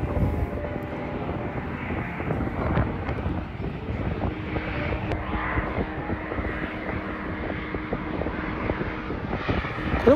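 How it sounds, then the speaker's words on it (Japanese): A Lufthansa airliner, likely an Airbus, descends to land at Haneda Airport, heard from the seaside park at Jonanjima as a steady, distant jet roar mixed with wind noise on the microphone for the whole stretch. "ルフトハンザの飛行機が降りてきましたね。"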